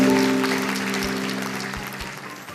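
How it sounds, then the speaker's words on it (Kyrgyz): Audience applause at a Kyrgyz quiz show, a dense wash of clapping that starts loud and slowly fades over a couple of seconds, with a faint tonal hum running underneath. "Туура, кол чабуулар болсун."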